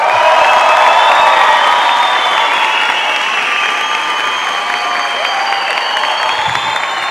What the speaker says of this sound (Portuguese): Muitos aplausos.